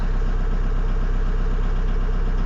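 A car engine idles steadily after a misfire repair, with an even low rumble that stays close and constant and has no voices over it.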